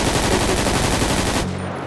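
Rapid automatic gunfire from the video game GTA 5, played on a Brazilian roleplay server during a police raid on a favela, rattles in a loud, continuous burst before cutting off abruptly, leaving a low hum behind.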